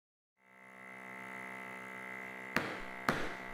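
A vacuum press pump draws air out of a bag during a woodworking glue-up, a steady humming drone that starts abruptly and runs evenly, with two sharp clicks near the end.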